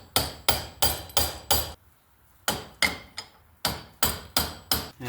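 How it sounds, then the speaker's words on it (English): Sharp, ringing hammer blows strike the shaft of a Billy Goat thatcher to drive a bearing off, two quick bursts of five and then six evenly spaced hits separated by a short pause, loud and close. "hit this with your hammer on this side, and it'll slowly start pushing that off"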